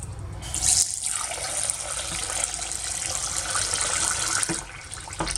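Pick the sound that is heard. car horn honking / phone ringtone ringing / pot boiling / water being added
water being added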